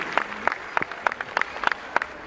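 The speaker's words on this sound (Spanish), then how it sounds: "En el aplauso se nota que están cansados." Applause from a tired audience at a Tierra Caliente music concert from Guerrero: sparse, scattered claps with distinct individual hits at a fairly steady loose rhythm, moderately loud.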